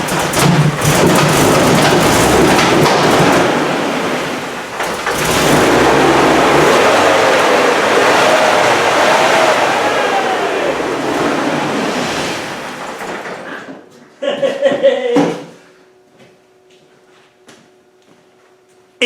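A GM Vortec engine with no coolant fires up and runs roughly as a loud, continuous roar for about fourteen seconds, then cuts out, leaving a few brief clattering sounds and a faint steady tone.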